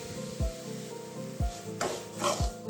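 Semolina (rava) roasting in a pan while being stirred, giving a soft dry rubbing scrape with three low knocks of the spoon against the pan at roughly one-second intervals, plus a brief brighter rustle near the end.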